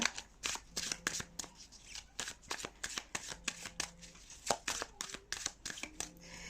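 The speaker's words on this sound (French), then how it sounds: "Donc on va bien mélanger les cartes, très important." Oracle cards being shuffled by hand: a rapid series of crisp riffles and slaps in quick irregular bursts, close and fairly quiet, with no speech.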